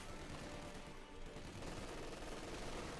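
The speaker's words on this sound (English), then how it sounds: "Machine gun suppressing the Purge" Machine-gun fire in the video game Company of Heroes 2 comes as a dense, continuous rattle of shots mixed with battle noise, loud and unbroken, with no speech.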